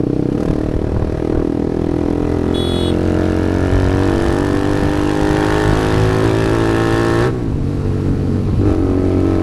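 A TVS Apache RR 310 motorcycle fitted with a full Akrapovic exhaust system drones steadily while riding, a loud, close, sustained engine note with a brief rise near the end.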